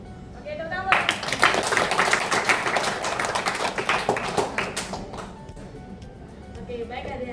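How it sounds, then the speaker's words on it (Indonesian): A class of students claps after a group presentation in a telephone-operator lesson, a dense burst of hand claps lasting several seconds before thinning out, with a few voices mixed in. "tepuk tangan"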